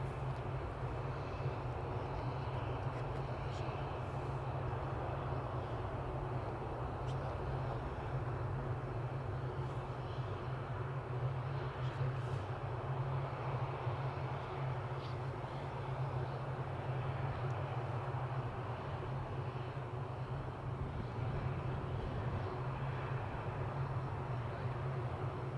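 Boeing 737 airliner at Amsterdam Schiphol airport, a steady distant engine rumble and whine holding at an even, moderate level throughout.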